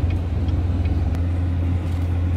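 Car being driven in Florida, a steady low engine hum and road rumble from inside the cabin, loud and continuous with no talk.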